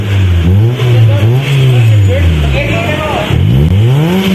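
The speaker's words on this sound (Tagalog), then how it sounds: "Mitsubishi Xpander, eto ang sound check ng HKS Muffler." A Mitsubishi Xpander fitted with an HKS Jasma muffler revs several times up close, its loud exhaust note rising and falling in repeated swells.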